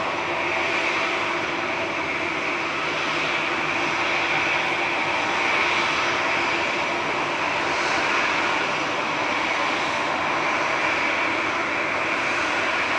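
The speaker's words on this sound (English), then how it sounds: "Ryanair departing next to Krakow, flight 2142." Ryanair jet airliner departing Manchester Airport toward Krakow, heard as a steady, broad engine roar that holds constant throughout, distant but strong and without any talking.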